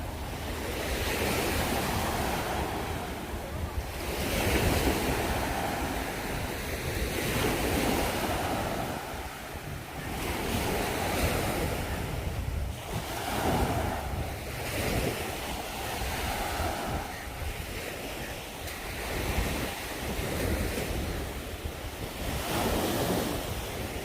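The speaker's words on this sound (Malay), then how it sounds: "kawasan ni selalunya ada kejadian angin kencang di laut macam ni" Strong sea wind and crashing waves at the Teluk Bahang fishing village on Penang Island, a continuous roaring wash with surges of surf rising and falling throughout, loud and unbroken with no voices.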